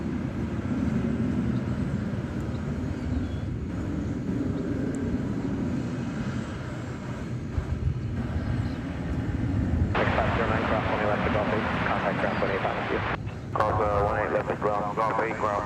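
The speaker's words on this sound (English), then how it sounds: "It's an Airbus A321, American Flight 329, going to Boise," Airbus A321 American Airlines jet at Dallas Fort Worth airport, a steady low jet-engine roar running throughout beneath someone talking and radio chatter.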